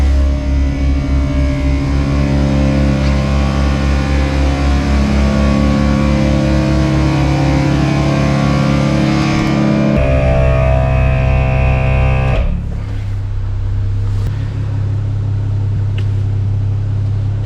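An ARB on-board twin air compressor running steadily, a loud, close, droning motor hum with strong low harmonics that shifts pitch and then drops to a lower, lighter drone near the end.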